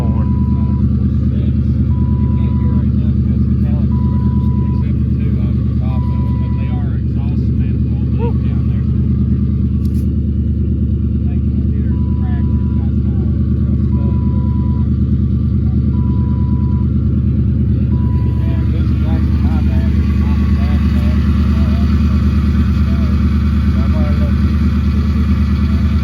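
An old Ford Crown Victoria drives along, its engine producing a constant low rumble and droning road noise that fills the whole stretch, close and loud, with a shift in tone near the end.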